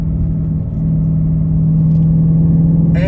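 A Ford Mustang California Special's naturally aspirated V8 rumbles at a steady, deep idle close by, loud and even, with a brief higher rise near the end.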